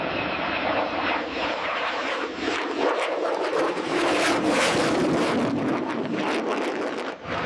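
Jet engines of a US B-2 Spirit bomber roar continuously through a high-speed takeoff, a loud, steady broadband rumble with wind buffeting the microphone and no talk.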